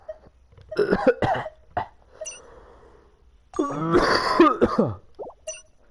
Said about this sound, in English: I coughed so hard that it hurt my back